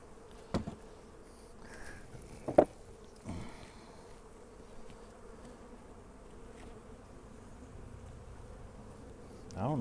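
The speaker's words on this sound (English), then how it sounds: "There's plenty of bees in here." Bees hum steadily inside an opened beehive box, a low continuous drone with a few brief louder bumps and knocks as the box is handled.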